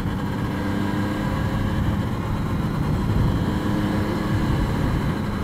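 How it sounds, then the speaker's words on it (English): A 1972 Suzuki GT750 motorcycle engine pulling at low revs in top gear during a ride, a steady low rumbling drone blended with wind noise, continuous and fairly close. "the response from the engine at low revs is quite remarkable"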